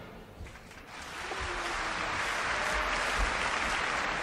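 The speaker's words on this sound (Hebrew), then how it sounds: "בוא נשמע כפיים" Applause from a studio audience on a radio show, a broad steady clatter of clapping that swells after the first second and holds loud and even to the end.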